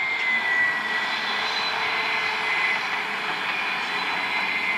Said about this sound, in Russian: Характерный звук турбины слышно.